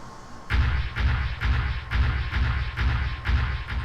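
Assault rifle fire in the From Dusk Till Dawn video game: a regular run of about eight booming shots, evenly spaced and close, over a low background rumble.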